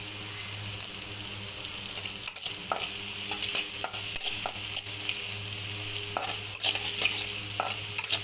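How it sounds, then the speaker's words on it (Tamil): Chopped onions fry with fennel seeds in a pan for home-made egg roast, a constant crackling sizzle broken by repeated clinks and scrapes of a spoon stirring, close and fairly quiet, no talking. "வெங்காயம் கொஞ்சமாக போட்டுக்கோங்க போட்டு நல்லா ஃப்ரை பண்ணுங்கள்"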